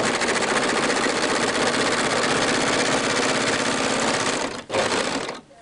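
An overlocker (serger) stitches fabric at steady high speed, a dense continuous mechanical whir that runs close and loud before a brief dip near the end, then resumes for a moment.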